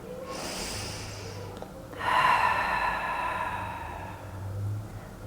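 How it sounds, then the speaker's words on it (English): Deep breathing during a yoga stretch against a wall: a long airy inhale followed by a stronger, breathy exhale, close and clear with no talking. "All right, another breath here."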